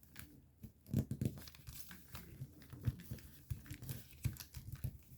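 A sheet of paper being creased and squash-folded into an origami fighter jet, giving close, quiet crinkling and crisp rustles with soft taps and presses, irregular and continuous with no speech.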